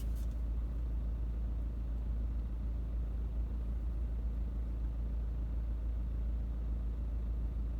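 A BMW car drives along with a steady low engine and road rumble, continuous and close, with no talking.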